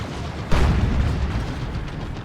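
Artillery gun fire in Warhammer 40k: Dawn of War 2 during a 1v1 match: one heavy booming blast lands about half a second in, then rumbles and fades into dense battle noise, loud and close.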